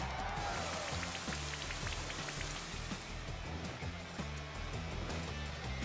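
A Rain Dance move in the Pokemon Sword video game brings a continuous wash of falling rain, a steady hiss of drops over a low, pulsing battle soundtrack.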